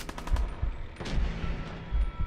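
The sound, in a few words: gunfire in the video game Fallout 4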